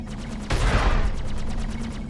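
Spaceship guns fire in Star Citizen as a sudden burst of rapid, rhythmic shots that starts mid-clip and continues steadily, loud and close, with no talking.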